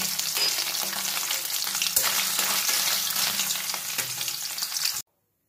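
Peanuts fry in hot oil with a dense, steady crackling sizzle that stays loud and even for about five seconds, then cuts off abruptly to silence.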